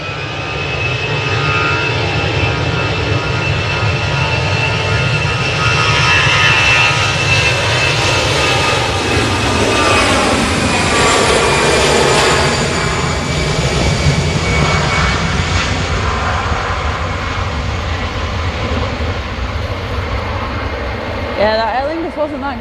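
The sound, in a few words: Aer Lingus airliner landing at Manchester Airport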